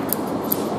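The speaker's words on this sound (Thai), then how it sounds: "แนะนำให้ใช้กรรไกรซอยก่อนมือใหม่นะ" Thinning scissors cutting a man's hair: two soft, crisp snips about half a second apart, close against a steady low hum.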